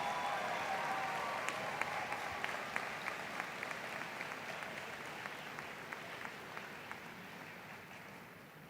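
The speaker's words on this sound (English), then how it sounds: "please give a round of applause for your 2021 class valedictorians" Graduation ceremony audience applauds the 2021 class valedictorians, a fairly quiet, steady wash of clapping with a few crisp nearby claps, tapering gently toward the end.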